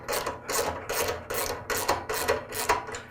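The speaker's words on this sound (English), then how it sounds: "Next, I'm going to loosen this bolt that secures the pulley on our drive cable." Seven rhythmic, scratchy ratcheting strokes from a wrench loosening the bolt that holds the drive-cable pulley on a Troy-Bilt small frame mower transmission, close and steady with brief pauses between pulls.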